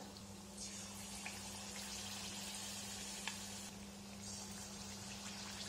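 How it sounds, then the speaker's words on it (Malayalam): Battered snacks frying in hot oil over a low flame, with a steady, dense sizzle and crackle throughout, alone and fairly quiet, with a constant low hum beneath. "അതൊക്കെ ഒന്ന് എണ്ണയിലേക്ക് ഇട്ട് കൊടുക്കാം"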